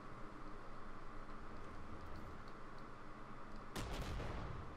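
A single loud tank cannon blast booms out from a T-72A battle in the tank game Armored Warfare, bursting sharply over a steady background hiss and rumbling off for about a second.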